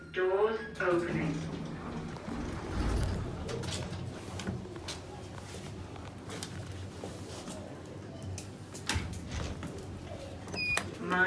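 Thyssenkrupp lift doors sliding open inside a department store, a low rumbling slide with light knocks and a brief chime, mixed with a recorded voice announcement and background chatter.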